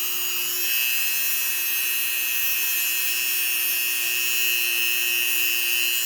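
A Dremel rotary tool works on resin magnets with a continuous high-pitched whine, steady and loud close by.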